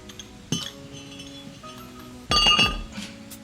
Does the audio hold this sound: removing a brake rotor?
yes